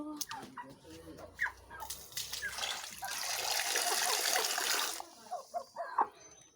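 Water pours steadily for a couple of seconds into a container for young chicks, with close chirps and peeps before and after the trickle.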